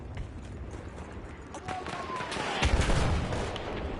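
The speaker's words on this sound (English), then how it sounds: "Nog een mortar!" Mortar fire in an online team deathmatch video game, a few distant booming blasts and crackling impacts building toward the end, with players talking over them.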